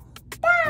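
A single cat meows once, a short rising-and-falling cry that is loud and close, following a couple of faint softer sounds, with no talk over it.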